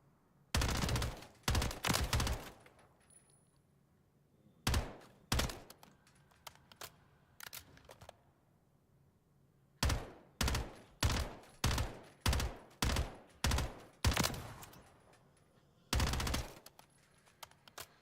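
A video game gun is hip-fired in short, sharp bursts, loud clusters of rapid shots separated by brief pauses, repeating across the whole stretch.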